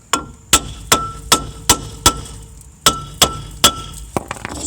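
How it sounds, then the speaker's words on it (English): A hammer strikes a stuck front brake part on a 2008 Chevy Cobalt repeatedly, about ten sharp ringing metal clangs at an uneven rhythm, close and loud, followed by a few lighter taps. "Ye old hammer."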